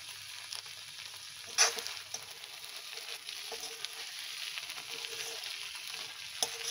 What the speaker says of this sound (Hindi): और अब हम इसे भूनेंगे।